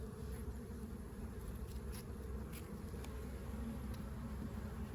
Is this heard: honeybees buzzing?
yes